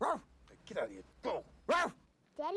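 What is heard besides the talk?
dog barking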